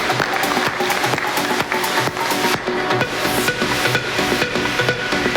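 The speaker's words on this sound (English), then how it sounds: "A big round of applause to Bharat for his wonderful contribution in the panel session" A conference audience at a panel session on digital fraud and data analytics gives sustained, loud applause for a panelist, a thick even wash of clapping that holds without pause.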